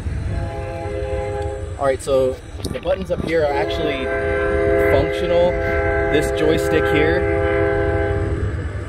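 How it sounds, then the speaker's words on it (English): A passing train sounds its horn in long sustained blasts while someone talks over it, the rumble and clatter of railcars steady beneath throughout. "Sorry about the train."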